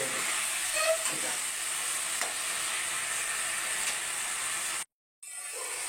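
Chopped and ground onion sautéing in oil in a pan for doi katla, a steady close sizzle and hiss with occasional stirring scrapes, broken by a brief silent gap near the end before the sizzle returns.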